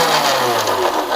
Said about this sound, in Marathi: आता आपण बारीक करून घेऊया मिक्सरला हे पाला.